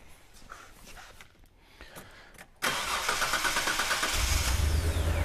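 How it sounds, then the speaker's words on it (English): A Hyundai Terracan with a misfire fault cranks and fires up from cold after a quiet moment, then settles into a loud, steady, close idle. "I'm just going to run the car now."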